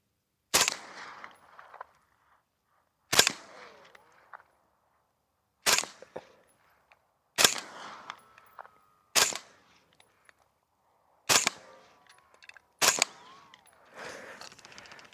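Seven sharp, loud rifle shots from a gun fitted with an SMS Trinity laser, fired singly at uneven intervals of one to three seconds, each with a short echoing tail, and no talking.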